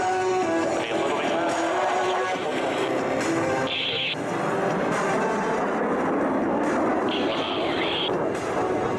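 Blue Angels jets roar past at an air show, a loud sustained rumbling whoosh that swells and fades, with a commentator talking over the sound.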